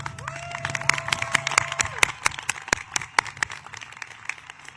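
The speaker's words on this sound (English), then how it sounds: "Please join me in giving them a round of applause." Applause with cheering from a crowd at a continuation and adult high school graduation ceremony, scattered sharp claps and whoops, one rising whistle-like cry near the start, lively and uneven over a few seconds.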